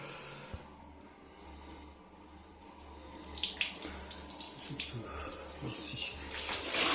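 Water swirling and splashing over gravel being rinsed by hand outdoors while setting up a garden planting bed, a steady wash that grows louder and busier toward the end.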